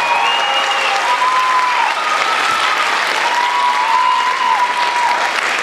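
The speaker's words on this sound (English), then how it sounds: "big round of applause for them" Sustained audience applause for student program kids at a chorus concert fills the room steadily, with a few faint whoops rising over the clapping throughout.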